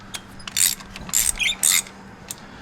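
A wrench cracks loose a spark plug on a 2012–2019 Kia Soul, giving a few short metallic ratcheting clicks and clacks close to the microphone, separated by brief pauses.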